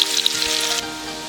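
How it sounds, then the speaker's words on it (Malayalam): Crushed green chilies and garlic sizzle hard as they hit hot oil left over from frying eggs, a bright steady crackle that eases slightly partway through, close and with no voices. "ആ മുട്ട പൊരിച്ച എണ്ണയിലേക്ക് തന്നെ ചതച്ച് വെച്ചിരിക്കുന്ന പച്ചമുളകും വെളുത്തുള്ളിയും കൂടി ഇട്ടൊന്ന് വഴറ്റാം"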